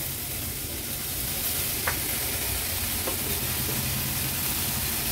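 Chopped onions mixed with turmeric fry in a pan, giving a dense, even sizzle that holds steady throughout, with a couple of faint spoon taps, close and loud with no speech.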